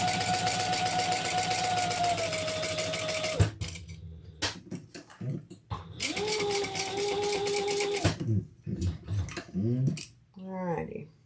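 Sewing machine stitching across the end of a thick leather strap, running in two steady motorized bursts of about three seconds each, with clicks, handling noises and a faint voice in the pauses between.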